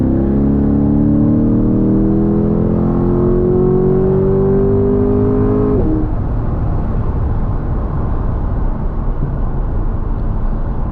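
A 2023 Chevrolet C8 Corvette Z51 accelerates hard on throttle, its engine note rising loud and steady in pitch before an abrupt gear change drops it into a rougher, lower drone, heard from inside the car with no talk.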